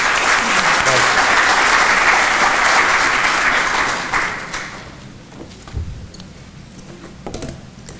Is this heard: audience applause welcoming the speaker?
yes